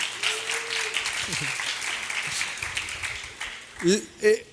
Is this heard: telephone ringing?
no